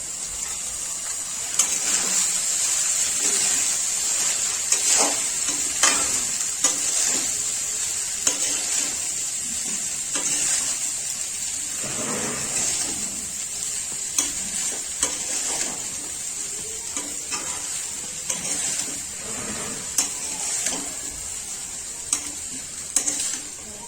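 Fried rice with peas being stirred and fried in a pan, a continuous loud sizzle broken by repeated scrapes and clinks of the spatula against the pan, with no talk.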